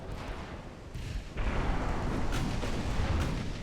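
Naval gunfire in the warship game Ultimate Admiral: Dreadnoughts, a steady rumbling barrage of heavy booms that thickens and grows louder partway through, with no talking.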